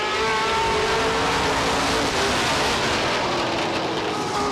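Stock race cars roar around the oval at Star Speedway, a dense, continuous engine drone with layered whining tones from several cars at once, loud and steady with no pauses throughout.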